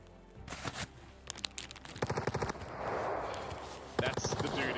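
M4 rifle fire in the video game Escape From Tarkov comes in rapid bursts and quick single cracks, with players talking over the shooting.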